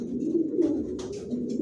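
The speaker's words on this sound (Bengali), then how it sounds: "আমার লফটে সব একই লাইনের কবুতর বালি জনসনের লংয়ের।" Racing pigeons in a loft give a short bout of low, soft cooing, close by, with a brief flutter or chirp near the end.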